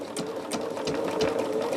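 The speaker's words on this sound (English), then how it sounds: "I will pop that on the sewing machine here" A domestic sewing machine stitching fabric runs steadily up close, its motor hum carrying a rapid, even mechanical chatter of the needle, with no talking over it.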